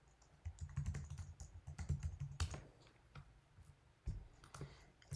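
Computer keyboard typing in irregular bursts of clicks and key taps, close and moderately loud, with short pauses between flurries while setting up a web page.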